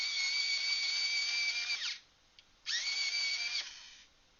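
A TaskBiiz electric pencil sharpener grinds a pencil in two close, steady high-pitched whirring bursts, each about two seconds long, separated by a short pause.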